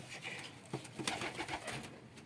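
Turkmen pigeons coo softly nearby in repeated low calls at a breeder's loft, with rustling and light movement around them.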